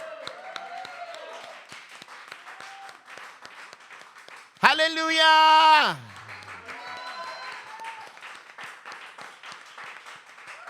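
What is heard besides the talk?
congregation loud applause with shouting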